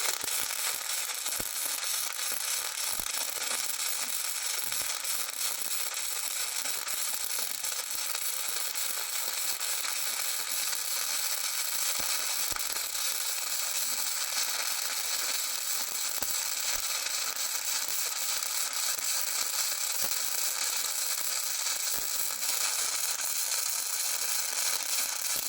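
Steady crackling hiss of a Sefaspe MIG 205 DS welder laying a weld, a continuous fizzing sizzle that holds evenly, close and fairly loud, with no pauses for its whole length.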